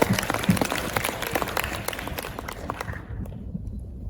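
Audience applause after a Balinese mask dance performance, dense clapping throughout that thins out and fades near the end.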